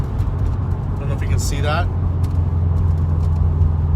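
Steady low engine drone from inside a car driving in road traffic, a constant rumble and road noise throughout while someone talks briefly over it.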